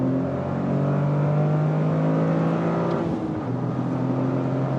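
A Toyota GR Corolla Morizo with a stiffened chassis and Cup 2 tires drives on a race track, its engine droning loud and steady from inside the cabin, pitch rising and then briefly dipping.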